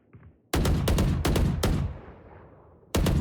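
Odin machine gun in the video game Valorant fires four loud, sharp bursts in close succession, each decaying into a reverberant tail, then a fifth burst cuts in after a brief pause.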